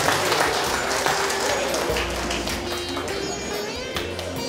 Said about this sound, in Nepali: एकपटक जोरदार ताली